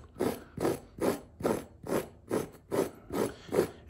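A brush is worked back and forth over flattened carpet fibers, making eight even, rhythmic scrubbing strokes at a steady pace, close up with no voices.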